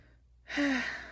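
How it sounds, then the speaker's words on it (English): A dog snores once in a parked car, a single short, soft rasping breath with a faint tonal buzz, alone after a quiet pause. "Then we got Cora snoring down there"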